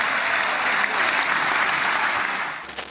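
Sustained applause fills the Israeli parliament chamber for US President Donald Trump, a dense, loud wash of many hands clapping together that holds steady before tapering off at the end.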